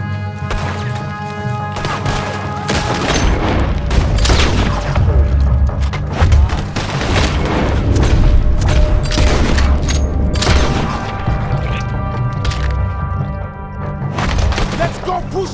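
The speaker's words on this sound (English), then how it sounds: "There's another set of cannons up ahead!" Cannon fire booms repeatedly during a gunfight in Red Dead Redemption 2, loud heavy blasts and crashes mixed with gunfire and a steady music bed while voices shout over the action.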